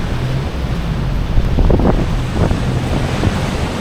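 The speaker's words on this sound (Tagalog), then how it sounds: "Ayan yung waves, ang lalaki. Wow, yung waves ang lalaki." Rough surf and wind roar continuously at the Patapat Viaduct, with large heavy waves crashing and rumbling close by and wind buffeting the microphone.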